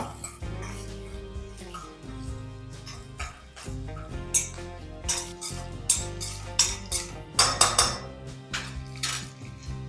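Dried red chillies sautéing in a pan for wedding-style curd rice tempering: crisp sizzling with repeated metallic clinks and scrapes of a spoon against the pan, growing busier and louder toward the end.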